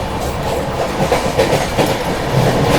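The Jammu Tawi–Sealdah Humsafar Express, heard from an AC 3-tier coach, rumbles steadily along the rails with a continuous rattling roar and faint rhythmic clatter of wheels, close and loud throughout.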